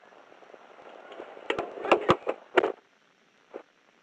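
A police shooting brings a quick burst of sharp gunshots, five or six close cracks in rapid succession over a low background murmur, then a single fainter shot about a second later.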